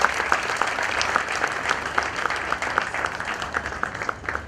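A large crowd at an awards ceremony applauds after the first lady's speech, a loud, sustained burst of clapping that rises at the start and then tapers gradually.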